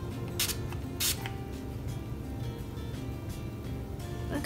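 Physician's Formula setting spray mists onto hands in two short hissing bursts, followed by fainter spritzes over a low background hum.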